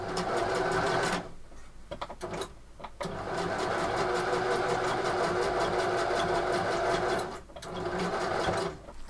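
Sewing machine stitching a quarter-inch quilt seam, a steady loud mechanical whir that runs nearly continuously, broken by two short pauses where the motor stops.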